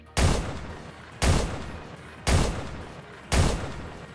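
Four heavy, booming shots from the custom Parasite weapon in Destiny 2, fired at a very slow, even rhythm about one second apart, each a loud close blast with a short decaying tail.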